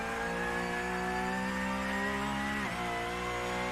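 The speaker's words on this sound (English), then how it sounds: "Hear that engine rev, man, when that wheels pick up off the ground." A car engine drones loudly and steadily with strong harmonic tones as it climbs a hill, then briefly drops and surges back as the revs jump when the wheels lift off the ground.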